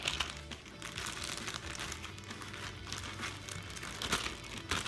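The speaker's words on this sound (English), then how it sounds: "just take it and put it in a Ziploc bag" A plastic Ziploc bag crinkling close up as a folded towel holding lemon and orange seeds is slipped inside, a stretch of soft rustles and crackles with no talk.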